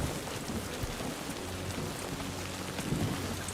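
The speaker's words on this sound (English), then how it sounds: "I assume this is Timefall, not standard ordinary rain" Timefall rain in the Death Stranding 2 video game falls as a steady, dense hiss of rain on surfaces, with a low rumble underneath, continuous and even for the whole stretch.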